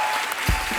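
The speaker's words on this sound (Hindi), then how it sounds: "एक बार जोरदार ताली हो जाए" Studio audience applause on a Hindi comedy talk show, a dense, steady wash of clapping that stays loud and even through the whole short moment.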